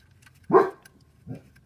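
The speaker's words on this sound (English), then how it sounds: "My goodness, that dog's loud." A big dog named Chance lets out two loud barks nearby, a strong one followed by a shorter, softer one, with quiet between them during auto repair work on a Toyota or Lexus.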